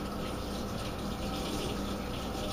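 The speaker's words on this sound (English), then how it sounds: "I just want to rinse my hands before I touch this cake" Tap water runs steadily into a kitchen sink while hands are rinsed before handling a baked cake, a constant close gushing stream with no talk.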